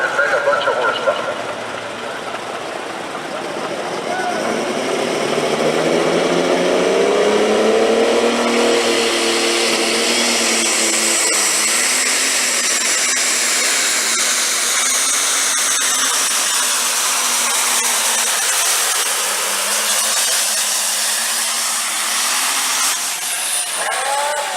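An International 1066 pulling tractor at an East Coast Pullers event in Boonsboro, its engine roaring loud and close and rising in pitch as it pulls, a sustained powerful drone held for over twenty seconds.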